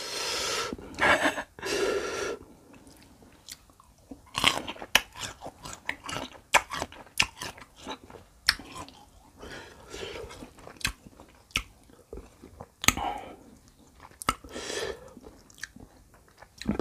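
Sour marian plums dipped in spicy jaew sauce are bitten and chewed close to the mic, with crisp crunching bites, wet mastication and sharp breaths and snorts scattered irregularly throughout.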